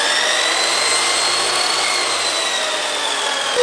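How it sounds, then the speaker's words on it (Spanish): A power drill is used as a mixer to beat dough in a kitchen, giving a loud, close, steady motor whine with no break for a few seconds. "Un taladro para batir la masa."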